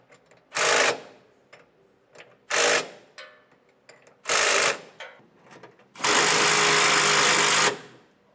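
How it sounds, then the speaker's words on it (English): Power tool with a 3/4 inch socket running a bolt down while installing a B&W Companion 5th wheel hitch in a 2015 Ford F-series truck: four loud bursts of whirring and ratcheting, the last one longest and steady, with quiet gaps between. "use a 3/4 inch socket, and we're going to run this down until the bolt meets the edge"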